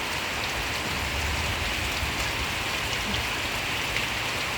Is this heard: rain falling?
yes